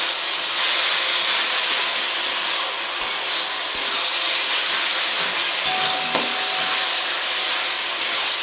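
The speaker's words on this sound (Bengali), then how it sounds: "এবার একটু ভেজে নেব ভালো করে।" Tomato masala for mutton curry sizzles and fries in a pan over lowered heat, a steady loud hiss with occasional faint spoon taps against the pan, no voices.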